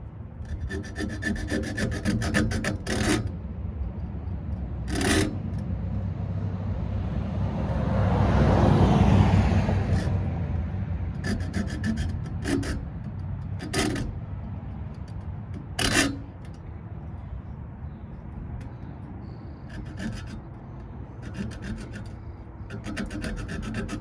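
A hand saw rasps back and forth through wood held in a clamp, a long run of rough rubbing strokes that swell in the middle, with short scraping bursts before and after and no talk.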